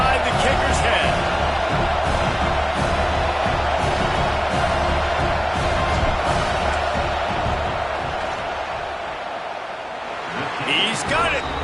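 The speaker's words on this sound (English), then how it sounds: "This crowd trying to do its part to get inside the kicker's head." A football stadium crowd roars steadily during a field goal attempt in a Notre Dame versus Iowa game, with a commentator talking over the broad, sustained noise.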